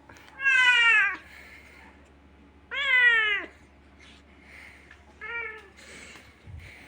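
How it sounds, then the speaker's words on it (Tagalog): A cat meows three times, two long drawn-out cries then a shorter one, spaced a couple of seconds apart, close by over a faint background hum. "Nag-iingay yung pusa."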